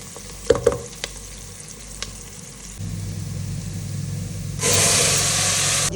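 Onions frying in a pan with a garlic and tomato paste added for a beef or mutton pulao: scattered knocks and clatter at first, then a steady hiss that turns into a louder, sustained sizzle as the paste goes in.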